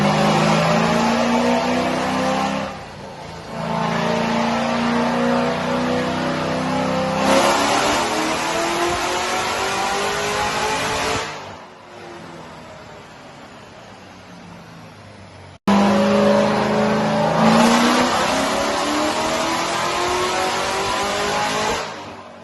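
A 2018 Corvette Z06 fitted with a 2.3 Griptec pulley, AFE intake, Kooks headers and X-pipe, revving hard on a dyno. The loud engine climbs steadily through long pulls, with brief drops between runs.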